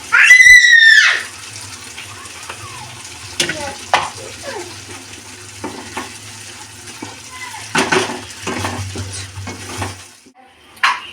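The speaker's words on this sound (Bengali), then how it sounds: "মশলা ধোয়া পানিটা দিয়ে দেবো বন্ধুরা।" Spice-wash water poured into frying spices for Afghani malai, a loud hissing burst at the start, then a lower simmering sizzle with scattered spoon scrapes and knocks against the pan, no talk.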